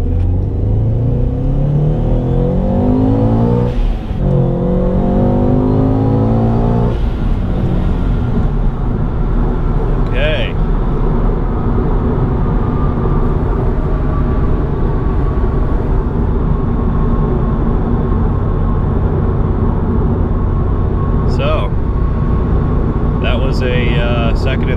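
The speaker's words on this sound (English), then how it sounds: "supercharger, third gear pull." Supercharged Scion FR-S pulling hard through third gear, a loud, steady engine roar with rising whine that builds continuously for the whole stretch, heard from inside the car.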